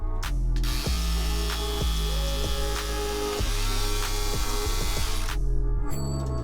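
A Braun Silk-épil 9 epilator runs with its shaving head fitted, giving a close, continuous motor whine with a rapid mechanical rattle and a few clicking shifts, stopping briefly near the end, without speech.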